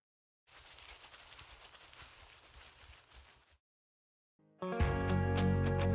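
Rustling footstep sound effects on grass, a soft, dense crunching and swishing that runs steadily for about three seconds. Silence follows, then a loud, sharp burst of thuds and tones at the end.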